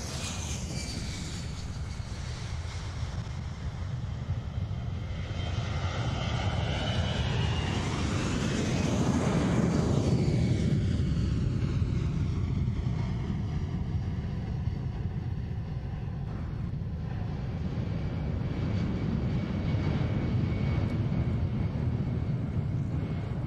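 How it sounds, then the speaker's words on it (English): A C-17 military transport aircraft makes a max effort takeoff at an aerospace expo airshow, its loud, broad jet engine roar swelling as it climbs and passes, then holding steady as it departs. "Let's watch as the C-17 takes to the skies here for the Sun and Fun Aerospace Expo."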